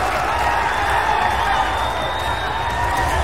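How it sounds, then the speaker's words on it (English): A large arena crowd at an EVO 2015 Street Fighter IV top-eight match roars and cheers in a dense, sustained wash of noise, loud throughout, with commentators' voices mixed in. "The crowd getting hype."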